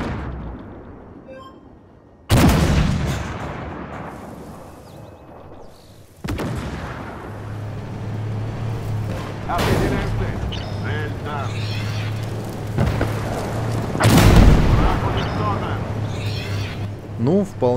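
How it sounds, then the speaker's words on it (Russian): Loud, heavy 125 mm tank cannon shots in a tank combat video game, several booming blasts spaced a few seconds apart, each with a long rumbling tail, over a low engine drone and game noise. "вполне себе громкий и смачный такой выстрел 125-миллиметровой пушки"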